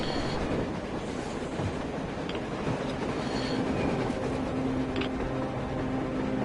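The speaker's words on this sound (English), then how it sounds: "A train! A damn train on the surface!" A train in the video game Metro Exodus rumbles past with rhythmic clatter and occasional metallic squeals, steady and fairly loud throughout, with no voices.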